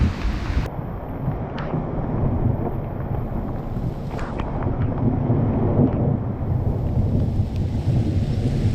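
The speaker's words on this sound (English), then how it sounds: "no need to be in the jungle with thunder and lightning during heavy rain on the last day" Thunder rumbles low and continuous during heavy rain in the Congo jungle, while wind buffets the microphone in gusts and no one speaks.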